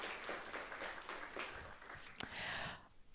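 A crowd applauding at a Sugar Land city council meeting, steady moderate clapping from many hands for a few seconds, tapering off abruptly at the end.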